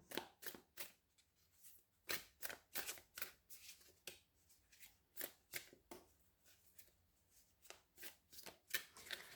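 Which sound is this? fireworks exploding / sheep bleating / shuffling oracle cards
shuffling oracle cards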